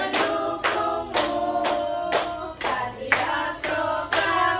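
Grade 4 schoolchildren drum their hands on classroom tables along with a patriotic group song, a regular pulse of sharp taps under the singing voices, close and even in loudness.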